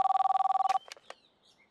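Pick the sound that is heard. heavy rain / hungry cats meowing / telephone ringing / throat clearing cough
telephone ringing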